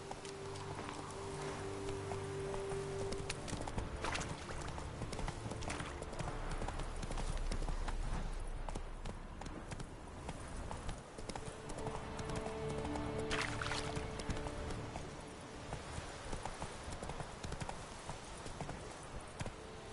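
Roach, a horse in The Witcher 3: Wild Hunt, gallops with steady clip-clopping hooves and an occasional whinny over a dense game soundscape, loud and continuous throughout.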